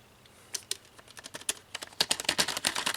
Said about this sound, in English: If I type with this keyboard, you can see all the K's coming up.